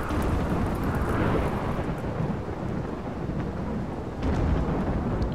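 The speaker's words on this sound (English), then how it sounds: "But the rain should be putting it all out, so." Steady, heavy rain falls in the video game Rimworld. It is a constant dense hiss with a low rumble beneath, and it runs unbroken throughout with no speech.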